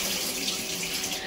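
Tap water runs steadily and loudly into a kitchen sink as cauliflower is drained, a continuous close rushing splash with no voices.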